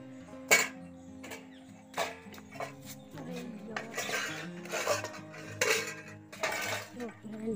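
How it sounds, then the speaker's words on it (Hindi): Dishes, pots and metal utensils clatter and clink while being handled for washing outdoors in a village, with a run of irregular sharp knocks and scrapes, some loud and close, over low background sounds. "अभी हम बर्तन मांगेंगे"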